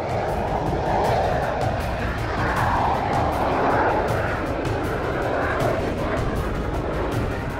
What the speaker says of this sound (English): the Vampire WZ-507 has a takeoff speed of around 100 knots, making it a nightmare for bad airport roads